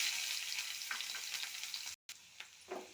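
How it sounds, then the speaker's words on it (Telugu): Mustard seeds, onion and dried chillies frying in hot oil in a kadai make a continuous bright crackling sizzle with scattered pops, briefly cut out before resuming softer, with no talk. "కరివేపాకు 2 నిమిషాలు బాగా ఫ్రై చేసుకున్నాం"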